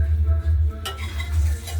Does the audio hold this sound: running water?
no